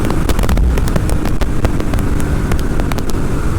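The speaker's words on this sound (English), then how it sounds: "I think you can really hear that exhaust really loud" A 2014 Ducati Hyperstrada motorcycle accelerating in sport mode, its exhaust loud and close behind heavy rushing wind noise, with a steady rough roar and crackling pops throughout.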